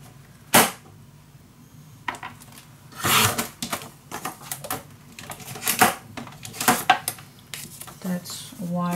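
Scissors or a trimmer cutting scrapbook paper at close range, a scattered series of sharp snips, rustles and clatters of varying loudness.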